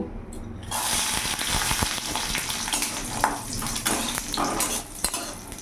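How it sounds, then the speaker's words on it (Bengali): Small lentil dumplings (bori) frying in oil in a pan, a steady busy sizzle with scattered clinks of a utensil against the pan, close and continuous throughout. "এই ছোট বড়িগুলো আমি ভেজে নেব"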